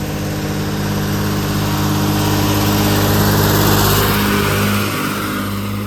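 A local public transport bus on a mountain road in Mokokchung, Nagaland, its engine idling close by with a loud, steady, throbbing drone that swells briefly before settling, no voices over it.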